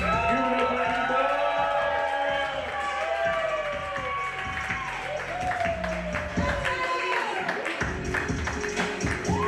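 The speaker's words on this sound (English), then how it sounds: "So please put your hands together, clap it up, and show some love for Annie Books." Audience clapping and cheering at an open mic night in a crowded venue, a steady wash of applause lasting throughout, with voices and shouts mixed in over it.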